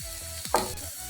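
Shredded cabbage softening in a hot pan, a soft sizzle broken by a few quick scraping stirs of a spatula against the metal, close and fairly quiet with no talking.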